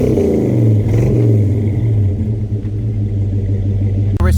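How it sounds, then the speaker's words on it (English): Deep, steady rumble of an older car's engine idling and revving slightly, close and loud, with a low throbbing tone throughout and a brief higher whine near the end. "this car is a deeper rumble than the Impreza"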